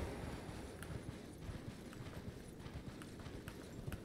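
Horse hooves clip-clop at a gallop while riding in the video game Elden Ring: Shadow of the Erdtree, a quiet rhythmic patter over a broad game ambience.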